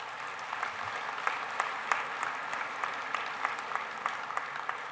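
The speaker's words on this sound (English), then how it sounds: "Please give them a big round of applause." Audience applause at a business session, a steady wash of many hands clapping at moderate distance, fairly quiet and continuous for several seconds with no talk over it.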